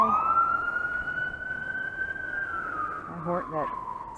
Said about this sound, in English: That siren went off and that scared me out of my wits.